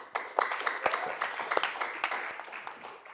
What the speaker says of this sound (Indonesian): boleh minta tepuk tangan?